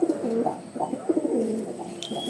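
A female pigeon of a prized racing line coos up close in a run of soft, throaty, rolling calls, repeated several times with short pauses and no talking.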